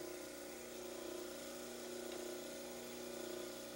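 A model trimmer grinds an orthodontic plaster cast, a steady motorized whir with a constant hum and gritty abrasive hiss that holds even throughout, close and alone.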